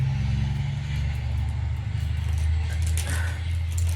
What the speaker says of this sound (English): there's a giant truck coming by